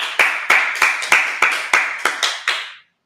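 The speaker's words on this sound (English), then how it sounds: "Clap it up" A congregation clapping at a Feast of Tabernacles opening service, about nine sharp, evenly spaced claps in a steady rhythm, close and loud, ending abruptly with no talk.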